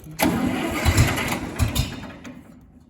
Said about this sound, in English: So let's fire it up. You're gonna hit the key.